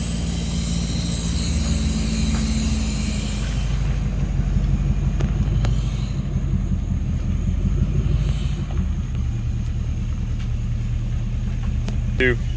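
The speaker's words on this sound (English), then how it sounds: "It's the only power stroke diesel powered chopper." A chopper motorcycle powered by a Power Stroke diesel engine runs with a steady, heavy low rumble, buffeted throughout by loud wind noise.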